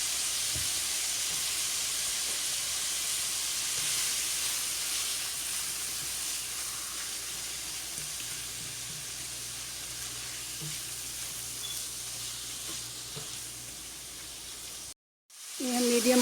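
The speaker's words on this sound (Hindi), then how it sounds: "ये हम मीडियम आंच पर पका रहे हैं। ये अच्छी तरह से फ्राई हो गया।" Minced meat frying with ginger garlic paste in a pan over medium heat, giving a steady broadband sizzle that runs nearly unbroken and fairly loud, with a brief drop near the end.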